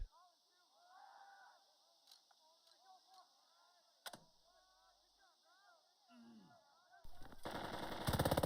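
Bursts of machine gun fire from the WWII tactical video game Burden of Command, rattling under a game soundtrack and crowd noise, with heavier sustained gunfire at the end.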